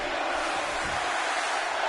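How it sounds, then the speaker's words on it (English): Arena crowd in the WWE 2K17 wrestling video game chanting during a Kevin Owens versus John Cena match on Smackdown Live, a steady, dense roar of voices filling the whole stretch without a break. "A crowd chant breaking out."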